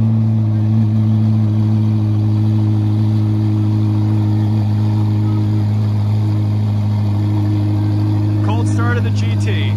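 A McLaren Senna GTR idles loudly nearby with a deep, steady, choppy engine note, held throughout, while someone talks over it and a brief sharp noise comes near the end.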